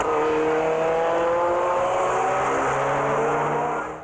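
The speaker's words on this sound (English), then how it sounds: "roaring up from behind comes the lunatic. Just the sound of the car." A speeding hoon's car roars up fast from behind on a multi-lane road, a loud sustained engine drone with rising harmonics that stays close and steady before cutting off at the end.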